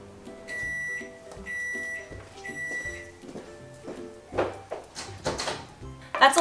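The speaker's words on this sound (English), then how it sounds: "I'm just going to put this in the microwave for 40 seconds." Three quick series of high electronic beeps sound from a microwave after a 40-second run melting chocolate, followed by clunks and rattles like the door opening and things being handled nearby.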